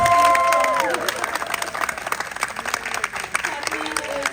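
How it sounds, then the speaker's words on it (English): Audience applause for an award recipient, the founder being honoured at an arts center anniversary event, with steady clapping and some crowd voices mixed in, loud at the start and easing slightly. "we're gonna applause the first person because she deserves a standalone"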